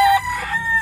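A breeding rooster crows close by, a strained, tonal call that holds steady and wavers slightly, with no other sounds around it.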